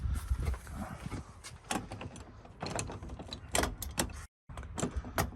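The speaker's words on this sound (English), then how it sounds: "Door handle's like falling off. It is locked." Metallic rattling and clicking of a loose front-door handle being jiggled on a locked door, several quick clanks and taps close by, with a brief silent gap.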